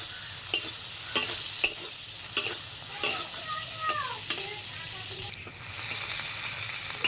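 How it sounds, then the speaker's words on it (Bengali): Shrimp sizzling steadily in a pan as a utensil stirs them, with repeated sharp scraping clicks over the constant frying hiss; no talking. "চিংড়ি মাছটা ভাজা ভাজা হয়ে গেছে"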